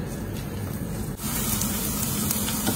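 Ginger, chopped garlic and green chili sauteing in hot butter in a pan give a steady, close, broadband sizzle that runs throughout with no talk over it.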